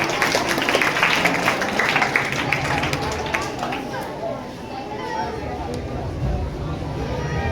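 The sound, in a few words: applause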